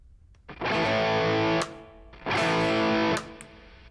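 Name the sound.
electric guitar played with the delay effect turned off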